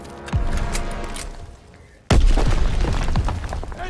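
A grenade explosion in Call of Duty WWII goes off with one sudden loud boom that cuts in after a brief lull, following earlier softer battle noise and trailing into rolling debris and gunfire.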